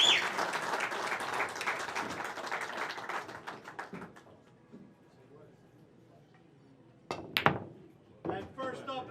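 An audience applauds the two finalists of a bank pool championship final at the 2019 US Open, a dense burst of clapping that fades over several seconds, followed by quieter room sounds and a few sharp knocks.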